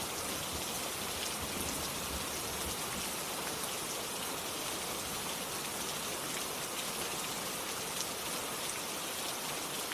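Steady, dense rainfall patters down across a surface on a cold winter night, a continuous even hiss with no talk and no pauses.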